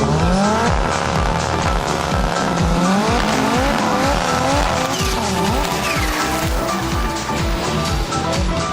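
Race cars, including a VW Golf and an Audi, competing at a race in Mostar, with loud roaring engines revving up and down, gear changes and squealing tires, close and continuous throughout.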